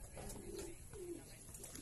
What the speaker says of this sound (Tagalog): Ayun pa pumasok guys yung pang-apat nating ibon.